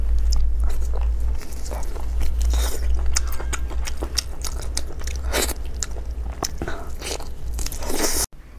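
Close crunching bites and chewing of octopus in a mukbang eating show, with sharp irregular crunches over a low steady hum and a sudden cutoff near the end.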